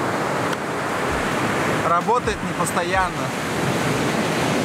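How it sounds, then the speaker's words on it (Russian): Ocean surf breaks on a remote shore in Mozambique as a constant loud wash of noise, while a person speaks briefly over it. "Вообще очень круто просыпаться на берегу океана от шума прибоя."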